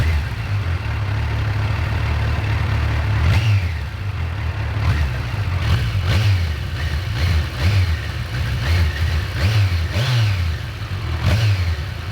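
A Kawasaki Versys 1000 SE motorcycle parked on its side stand is revved repeatedly, each blip rising into a deep, loud rumble and falling back to idle in a steady rhythm, close by with no talk.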